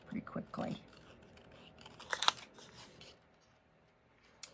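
Scissors fussy-cut paper for a stamped vellum card, giving a few quiet snips and crisp crunchy cuts close by, with soft talk at the start and a short tap at the end.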